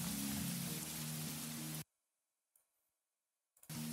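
Steady broadband rain hiss in the farming game Monster Harvest, loud and continuous for nearly two seconds, then cutting out to near silence before resuming at the end.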